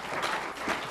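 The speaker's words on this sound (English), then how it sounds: "Let's give Lulu a round of applause." Audience at a government opportunities business event applauding for Lulu, a soft, even wash of many hands clapping, faint and distant, with no break.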